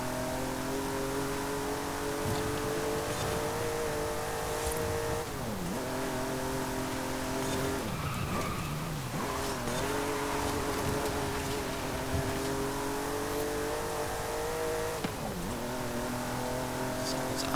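A Jaguar XJ13 with a V12 engine races in Forza Horizon 5, its high, continuous engine note climbing through the gears. Brief dips mark each shift, and the sound stays loud and unbroken from start to end.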